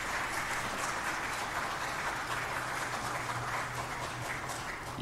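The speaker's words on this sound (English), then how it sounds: "Y'all quit clapping, you're cutting in on my time." Steady, dense audience clapping at a UFO congress hearing, heard from a distance at moderate volume and continuing unbroken for the whole stretch, with no clear talk over it.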